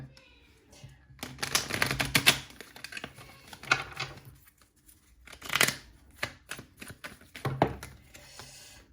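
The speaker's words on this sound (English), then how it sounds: "I'm just going to give it a better shuffle" Several bursts of rapid papery riffling as cards are shuffled, close up, with short pauses between them and no talking.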